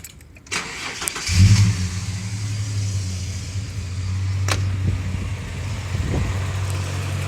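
A car engine starts after a valve cleanup and reassembly, then settles into a steady, smooth idle with a low even rumble and no ticking from the valves or lifters.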